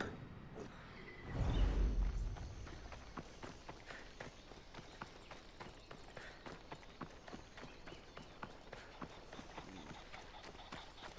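Horse hooves clip-clop at a steady trot in Assassin's Creed Odyssey, a regular run of sharp, moderately close beats that carries on across the whole stretch, with a brief rushing swell near the start.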